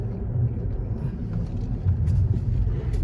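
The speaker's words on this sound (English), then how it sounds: "I'm gonna park the car here because I have to clear up my parking." A car engine runs with a steady low rumble as the vehicle is driven and parked on a snowy residential driveway in winter, the sound close and continuous throughout.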